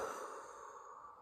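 A single deep, slow inhale through the nose or mouth, soft and close, breathy and airy during a guided breathing meditation, with no talk.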